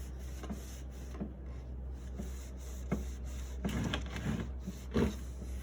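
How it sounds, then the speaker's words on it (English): A wet cloth scrubs across a wooden surface in repeated rubbing strokes, each a short soft swish over a steady low background hum. "Scrub the surface using a wet cloth or rug."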